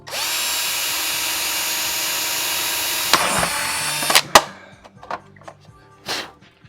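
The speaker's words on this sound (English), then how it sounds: "my drill just popped right through" A power drill whines steadily for about three seconds while drilling plastic, then cuts out with a crack as the bit breaks through, followed by a few scattered clicks and handling noises.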